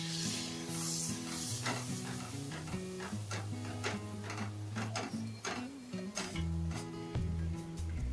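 Ground onion paste sizzles steadily as it is sautéed with spices in a pan for a matar paneer masala. A spoon scrapes and taps rhythmically against the pan, and low background music runs throughout without any talking.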